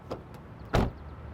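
A 2020 Lexus LC 500 coupe locking when its hidden door handle is pressed, heard as a brief, fairly close mechanical clunk. Two fainter clicks come just before it, and there is no talking.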